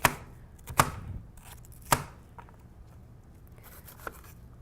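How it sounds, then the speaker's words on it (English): A knife chopping an onion on a board while making vegan pizza, with three sharp, distinct chops close up and a fainter tap near the end, alone with no voices. "I'm just going to do my little onion quick."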